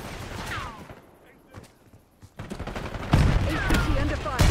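Gunfire in the Black Ops 6 video game, scattered shots and crackling bursts that build into dense, loud firing toward the end, with faint voices in the mix.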